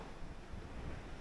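Steady rush of surf on a white sand beach mixed with gusty wind buffeting the microphone, continuous and fairly close, with no voices, at a campsite in Catanduanes.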